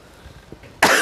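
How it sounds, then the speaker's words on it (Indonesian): A single sharp cough bursts out loud and close near the end, after a stretch of quiet room tone, during an Islamic religious lecture. "Itu batuk."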